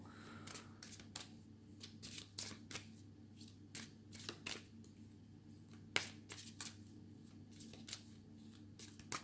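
Light Seer tarot cards shuffled by hand, giving a run of quick, crisp riffling bursts at an irregular rhythm over a quiet steady hum, with no talk.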